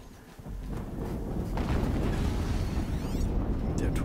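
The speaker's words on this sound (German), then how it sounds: "Noch eine Explosion." A video game explosion in Horizon Zero Dawn rolls out as a loud, sustained low rumble and roar that builds and holds to the end, with faint crackling bursts on top.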